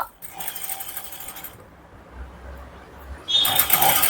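A small domestic sewing machine slowly stitches thread piping under a normal presser foot. It makes soft, sparse mechanical clicks near the mic, then gives a louder burst of rapid stitching at the end.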